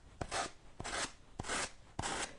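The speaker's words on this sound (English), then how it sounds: "I guess I'll use this new sander just for the heck of it." A new electric sander works a surface in four short, evenly spaced rasping passes, close and fairly quiet with no voices.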